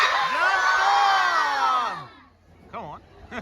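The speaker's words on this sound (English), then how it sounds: "as loud as you can, yell out, "Jump, Storm."" A crowd of year 2 schoolchildren yells together at a seal show at Taronga Zoo, one loud drawn-out shout lasting about two seconds. A voice follows alone in brief quieter bursts.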